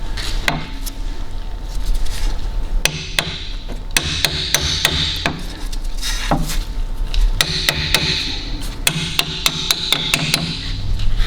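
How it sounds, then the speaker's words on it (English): Sharp, repeated hammer taps drive a front suspension strut through on an Audi Q7 (4L), ringing metallic strikes in uneven bursts close by, with no talk. "with a little bit of manipulation we should be able to tap that through"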